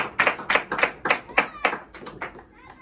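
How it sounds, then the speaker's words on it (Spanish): A church congregation claps in a rhythmic, evenly spaced pattern of about a dozen sharp claps that fade out near the end, with no voices over them. "Alguien dele palmas al Señor."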